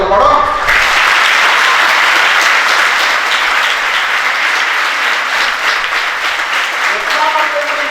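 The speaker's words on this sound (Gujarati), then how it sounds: "તાળીઓ પાડો." An audience at a school rankers' programme claps loudly and steadily for several seconds, a thick, close wall of applause, with a voice briefly heard at the start and again near the end.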